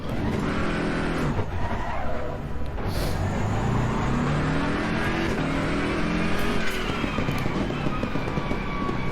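A race car engine in Assetto Corsa Competizione revs hard from the start and accelerates through rising gear pulls, loud and continuous with tyre noise, and no speech over it.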